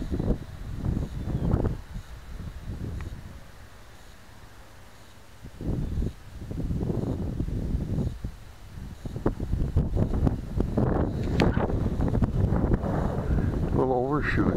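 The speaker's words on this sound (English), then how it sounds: "Oh my, that's a strong wind there." Strong gusty wind blows across a yard where a small E-flite Blade Nano QX quadcopter is being flown, with rumbling buffets swelling and dropping in loud bursts and someone talking over it.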